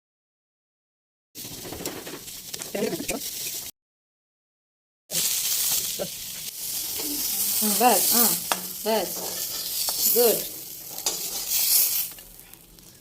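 Fish sizzles and crackles in hot oil in a home kitchen, with a steady frying hiss broken by a short pause and stirring. A child's and an adult's voices speak briefly over it.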